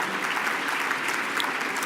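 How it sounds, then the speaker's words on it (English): An audience at an awards gala gives steady, dense applause, a continuous wash of many hands clapping at even loudness throughout. "Let's have another round of applause"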